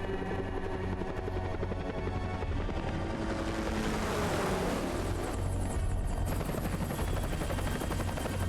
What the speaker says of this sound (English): Prototype high-speed bomber helicopter.